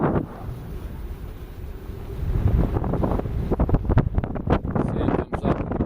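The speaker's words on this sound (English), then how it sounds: "The sand is blown uphill by the wind, deposited in sand dunes." Wind blowing across sand dunes at a coastal blowout, a steady broadband rush buffeting the microphone with gusty bursts growing stronger toward the end, no voices heard.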